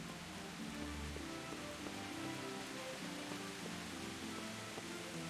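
Steady rain hisses over surfaces in the medieval game Kingdom Come: Deliverance, a constant broadband wash at moderate level with faint scattered drops, uninterrupted for the whole stretch and no voices.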